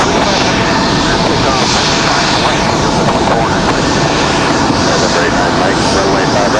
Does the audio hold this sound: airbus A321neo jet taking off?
yes